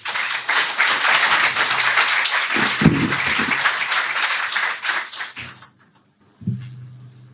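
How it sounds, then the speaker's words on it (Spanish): Loud applause from an audience welcoming the mayor of Maldonado, Enrique Antía, at the opening ceremony of a Smart & Green LATAM forum, dense clapping for about five seconds before fading out, then a low voice. "vamos a recibir con un fuerte aplauso al intendente de Maldonado"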